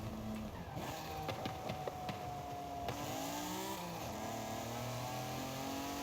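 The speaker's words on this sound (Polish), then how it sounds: "Ale ten wydech też dobry jest." A 1992 Honda NSX-R with a drift build in Forza Horizon 5 revs hard, its exhaust note climbing and dropping through gear changes and downshifts, loud and continuous with no talking.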